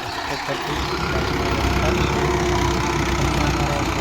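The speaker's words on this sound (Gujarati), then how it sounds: "ટ્રેક્ટર આવી ગયું તો આપણે ટ્રેક્ટર ચાલુ કરી દઉં" A tractor engine starts and settles into a steady, low chugging idle. The engine is close and continuous, with faint background noise around it.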